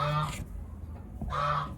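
Two loud, harsh honking turkey calls sound close by, separated by a short pause, with low background noise between them.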